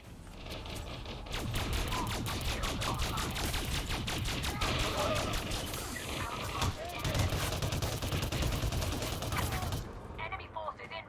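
Rocket launcher blasts and rapid gunfire from the space combat game Elite Dangerous, dense and continuous bursts of shots and explosions lasting throughout, loud and close, ending abruptly near the finish.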